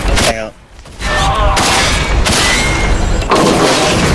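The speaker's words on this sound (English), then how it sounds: "Shotgun." Shotgun blasts in the video game RAGE, loud booming shots in a rapid burst with heavy gunfire sounds throughout, close and dominant.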